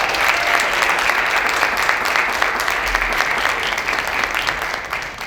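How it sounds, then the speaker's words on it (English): A crowd claps steadily and loudly for an award recipient being called to the stage at a school district champions celebration. The dense, continuous applause holds for about five seconds with no talking. "clap it up everyone"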